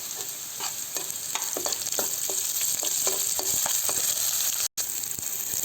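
Semiya upma with ginger garlic paste is stirred in a frying pan, giving a steady sizzle broken by repeated soft scrapes of the spoon, close and continuous, with one brief dropout near the end.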